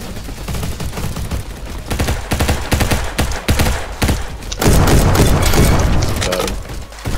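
Rapid bursts of gunfire from a weapon in the Roblox game Egg Hunt 2020 crack out loudly and repeatedly, with heavier booming shots toward the end and no talking over them.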